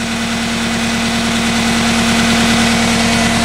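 An RC Caterpillar 242D skid steer sits idling, its engine droning in a loud, steady, even hum with a fine regular pulse throughout, close and uninterrupted.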